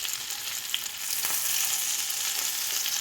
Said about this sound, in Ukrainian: Наша рибка смажиться з двох сторін